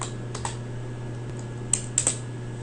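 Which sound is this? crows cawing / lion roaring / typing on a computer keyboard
typing on a computer keyboard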